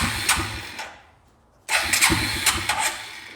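Suzuki Quadrunner 250 ATV engine cranking with its starter, stopping briefly, then cranking again and catching into a rough, uneven run, close and fairly loud with no talking.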